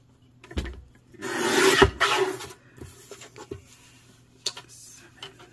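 Paper for a Halloween journal is trimmed with a cutter, giving a close, loud rasping slide lasting about a second, then scattered light ticks and taps of handling.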